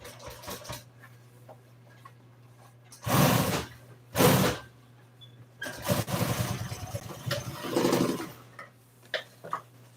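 A sewing machine top-stitching a Polaris vehicle seat cover in an auto upholstery shop runs in short mechanical bursts, then a longer rattling run, over a steady low hum with faint clicks between.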